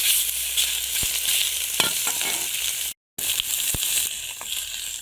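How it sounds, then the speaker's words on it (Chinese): Pork fat sizzles and fries loudly in a wok, with scraping stir strokes and a brief cut near the middle. "一下肥肉炒，把肥肉给炒出来啊"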